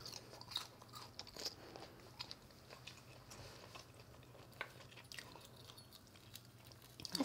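Crispy air-fried chicken with a crunchy coating and moist inside is chewed close up, with repeated soft crunches and bites in an uneven rhythm and no talking.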